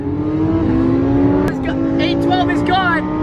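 A Lamborghini and a Ferrari supercar accelerate hard side by side in a street race, with loud sustained engine drone and rising revs while people talk excitedly over it.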